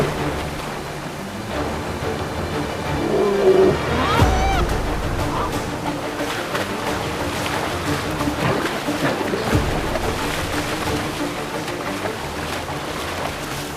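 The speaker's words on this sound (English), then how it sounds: "Rapids." River rapids rush with a broad, steady roar of churning water, loud and close, with a sudden splash and a short low thump partway through, and no speech over it.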